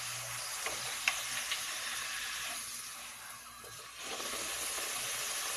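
A corn tortilla frying in a pan for chicken enchiladas gives a steady, close sizzling hiss throughout, dipping slightly in the middle before returning at full strength, with a few faint clicks.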